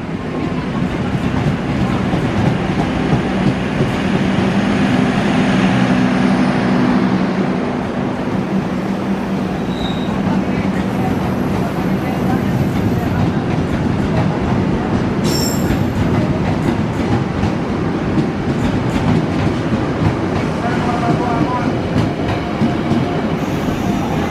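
Trains arrive and depart at Jatinegara station in Jakarta, with a loud, continuous rail rumble, rhythmic wheel clatter, and high metallic squeals and a brief shrill tone partway through, with no voices.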